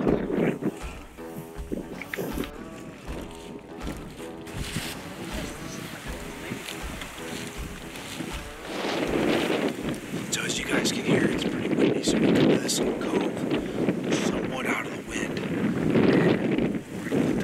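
Wind gusts through Missouri timber on a sunny turkey-hunting day, a steady broadband rush buffeting the microphone that swells louder after the first half, with some talk mixed in.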